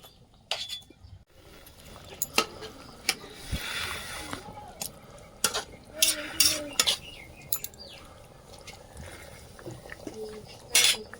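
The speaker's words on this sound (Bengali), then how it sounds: "মশলাটা কষাই করে তরকারিতে দিয়ে দিলাম মাছ দিয়ে দেব" Fried spice paste is stirred into a pot of fish curry, with a utensil clinking and scraping against the pot in irregular bursts close by, and a voice talking intermittently.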